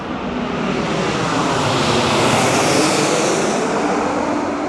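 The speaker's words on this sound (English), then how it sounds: "And a plane went directly over our heads there." An airplane flies directly overhead above a garden in Iceland, producing a steady, loud broadband roar that swells slightly toward the middle and holds throughout, with no talking.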